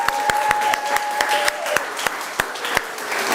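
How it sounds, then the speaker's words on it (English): An audience claps in a round of applause, a mix of many hands with sharp, loud individual claps standing out near the microphone, steady for a few seconds. "So give yourself a round of applause once again."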